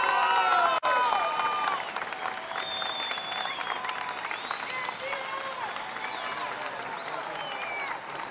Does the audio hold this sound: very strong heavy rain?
no